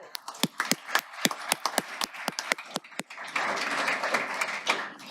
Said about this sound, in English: one big more round of applause for Palo Verde